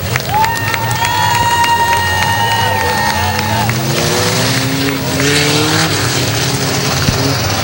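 A race car roars out of turn four toward the finish at Hudson Speedway, New Hampshire, its engine drone carrying over a cheering grandstand crowd, with a public-address voice booming over the track noise.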